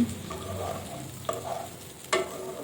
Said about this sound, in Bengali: এখন আমি একটু কিছু পরিমাণ গোটা জিরে দিয়ে দেব তাহলে একটু স্মেলটা খুব সুন্দর আসবে